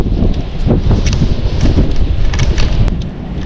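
Strong wind buffets the microphone beside an old fishpond during the rainy season, producing loud, low rumbling gusts with crackling bursts and no clear voices.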